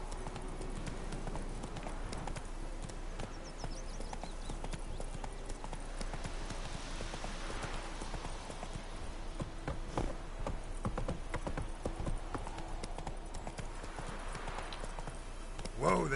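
Roach the horse trotting through The Witcher 3 video game world, hooves clip-clopping in a steady continuous rhythm over ambient game background, with a brief faint whinny possible.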